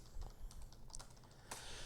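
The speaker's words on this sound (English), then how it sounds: "I'm just typing too." Someone types on a computer keyboard in a quiet room, producing a faint, uneven run of soft key clicks with one louder clack near the end.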